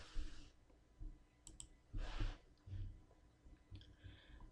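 Computer mouse clicks during Windows 10 installation from a USB flash drive, a few quiet, isolated clicks spaced apart against faint background hum, with no talk.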